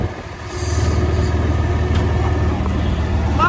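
A three-wheel auto rickshaw's small engine drones steadily up close while riding, with rattling road noise and a faint horn-like squeal near the end.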